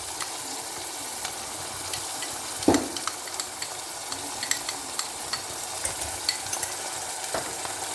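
A spoon stirring tomato paste and a tomato into frying masala for a simple sehri dish, with a steady soft sizzle, a sharper scrape near the middle and light scattered clinks.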